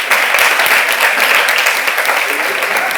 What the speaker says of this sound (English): Great, give her a round of applause.